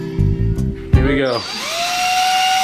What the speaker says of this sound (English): It's spinning on the drill bit.